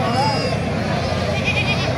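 Goats bleat at a busy livestock market in Thakurgaon, with short, wavering calls cutting through the constant babble of the crowd.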